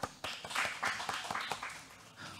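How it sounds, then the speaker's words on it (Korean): A quiet audience at an art-and-technology matching presentation event gives a scattered round of hand claps in uneven bursts to welcome the next presenter. "과연 어떤 내용 발표해 주실지 기대하는 마음들로 박수로 발표 만나보겠습니다"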